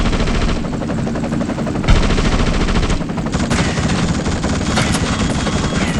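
Rapid automatic gunfire rattles almost nonstop over a droning helicopter in the video game The Suffering, loud and close, with one heavier blast partway through.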